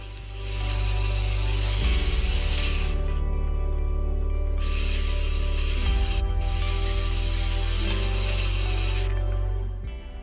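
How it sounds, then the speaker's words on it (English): An airbrush lightly sprays Tamiya XF22 paint over photo etch panels on a 1/48 Hasegawa Junkers Ju-87 Stuka model, a close, steady hiss running in three long passes with a compressor hum underneath. "I very lightly sprayed XF22 over the top of the photo etch panels to unify the colour"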